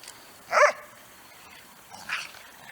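Dog gives one sharp bark, then a second fainter bark or yip about a second and a half later, amid quiet surroundings within a pack of dogs.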